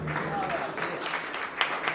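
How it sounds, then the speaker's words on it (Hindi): Audience at a press conference for a Bollywood health camp claps, a moderate wash of applause with a voice speaking over it. "मैं चाहूँगा उनकी अनुपस्थिति में भी उनके लिए एक बार जोरदार तालियां"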